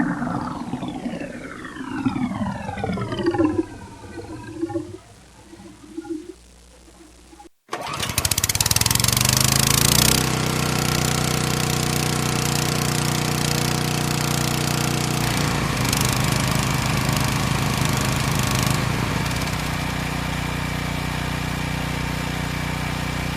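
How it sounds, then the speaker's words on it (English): A petrol generator pulled to start, then catching and running with a steady, loud engine drone after several rising, whining attempts. "a can of gas so I can run this fucking generator"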